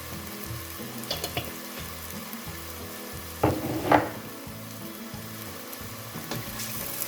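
Masala for chickpea curry sautéing in a pan gives a soft, continuous sizzle, with a few clinks and scrapes of a spoon stirring partway through, quiet and close with no talking.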